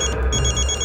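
Phone ringing with an incoming call indoors in a home, a steady electronic ring pattern repeating in quick pulses, loud and close, with no talk over it.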